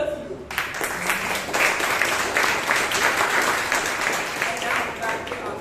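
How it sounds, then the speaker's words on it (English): Members at a Toastmasters club meeting in Bangalore breaking into applause, a close, full round of many hands clapping that starts after a brief opening voice and keeps a steady, even level. "a big round of applause to all of you"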